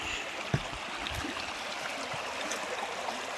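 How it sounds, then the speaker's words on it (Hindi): River water streams steadily past the bank at Shahdara near Islamabad, with a continuous broadband rushing wash, moderately close and without talk. "ये जो नदी जा रही है, जो यहाँ से साथ साथ पानी जा रहा है"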